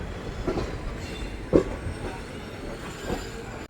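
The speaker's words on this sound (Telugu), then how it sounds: "మన ట్రైన్ వచ్చేసి ప్లాట్ఫామ్ నెంబర్ 1 నుండి అయితే డిపార్ట్ అయిపోయిందండి" Simhadri Express pulls out of Rajahmundry station from platform 1, giving a close, steady rolling rumble with a few knocks and clunks from the wheels and cars.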